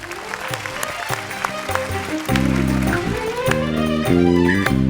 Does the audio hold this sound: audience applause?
yes